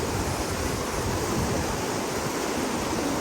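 Strong river current rushing steadily, a loud continuous broadband roar of flowing water with no break, close to the microphone.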